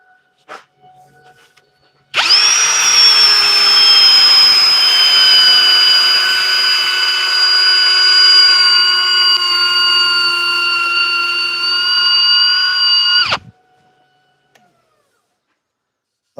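Power drill spinning in a woodturning workshop, a loud, close, steady high whine that starts abruptly, holds evenly for about eleven seconds, then cuts off sharply.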